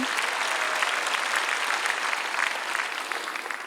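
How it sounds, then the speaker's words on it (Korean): A church congregation claps together during a Sunday worship prayer rally, a dense, steady wash of applause filling the room for a few seconds with no voice over it. "박수로 하나님께 영광 돌리고"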